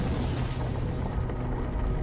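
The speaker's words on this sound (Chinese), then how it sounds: "甚至大爆炸。" Deep, rumbling boom of a small celestial body slamming into the Moon, a documentary sound effect; a sustained low roar fills the whole stretch at steady loudness with no talk.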